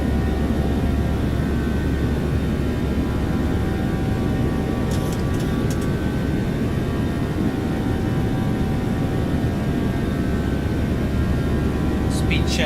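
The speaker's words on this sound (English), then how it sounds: "This is a good takeoff." A Boeing 777 in the X-Plane flight simulator rolls down the runway on takeoff, a steady loud broadband engine roar with a low rumble that holds constant throughout, faint higher tones drifting above it.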